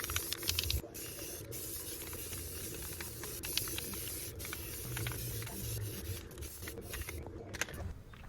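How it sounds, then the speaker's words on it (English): Green spray paint hisses steadily from an aerosol can onto a PVC mower basket on a Ryobi mower. The hiss is close and continuous, broken by brief pauses between passes. "Now I'm applying the green spray paint."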